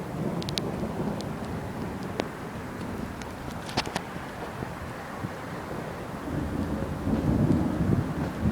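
Severe thunderstorm with gusty wind in Rancho Cordova, California: steady rushing wind buffeting the microphone, with sharp crackles and a low rumble of thunder building toward the end.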